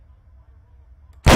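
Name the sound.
rifle gunshot in ARMA 3 video game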